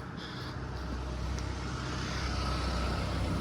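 Car on a road passing nearby, a steady broadband engine and tyre rumble that swells slightly, heard from outdoors with no talking.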